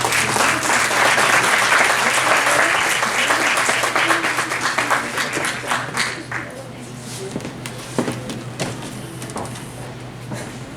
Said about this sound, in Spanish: vamos a dar un aplauso a nuestra ponente